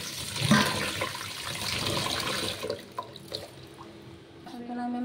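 Biryani rice is washed in water, with sloshing and splashing that fade into lighter drips and trickles, fairly close and moderately quiet.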